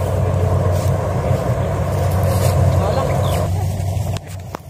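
Corn harvesting machine running steadily in a field, a constant loud mechanical rumble and drone with no breaks, easing slightly at the very end.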